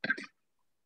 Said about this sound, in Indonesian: yang batuk tahan dulu ya